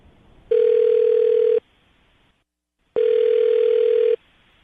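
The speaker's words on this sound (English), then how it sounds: "I'm going to dial the phone number right now" Two long, steady telephone dial tones, each holding for about a second before cutting off, with a short silent gap between them.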